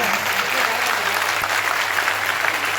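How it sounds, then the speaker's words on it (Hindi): Crowd in a panchayat hall at a Valmiki religious gathering clapping loudly and continuously to welcome a speaker, a dense, even wash of applause throughout. "थोड़ा कस से ताली बजाइए"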